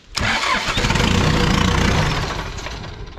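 A John Deere tractor's diesel engine cranks and catches, then settles into a steady, loud, close rumbling idle that eases slightly toward the end, with no talking over it.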